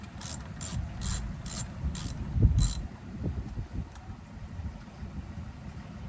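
A 10mm socket on a ratchet backs out a bolt under a 2012 Chevrolet Sonic, giving a short burst of five or six crisp, evenly spaced clicks up close, followed by dull handling noise and low background rumble.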